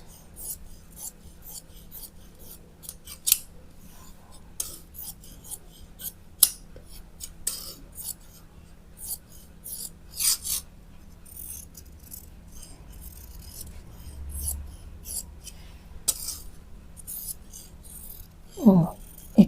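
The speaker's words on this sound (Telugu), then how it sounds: "ఇప్పుడు కటింగ్ చేసుకుందాం." Scissors cut through blouse lining fabric in a string of crisp, close snips and light rustles spread across a quiet background, with the fabric being handled now and then.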